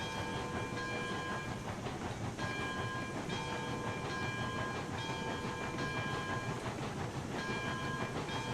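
A train rolls steadily through a rail yard in the Railroads Online video game, a continuous loud rumble with rhythmic clicking of wheels over rail joints and a faint tonal hum, no voices.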